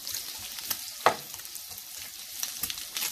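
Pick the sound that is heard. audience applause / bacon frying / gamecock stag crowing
bacon frying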